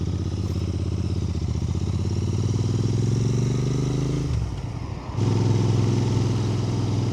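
A Royal Enfield Interceptor 650 motorcycle engine drones loud and close, its pitch rising steadily under acceleration, then dipping briefly around a gear change before pulling on strongly again on a country B road.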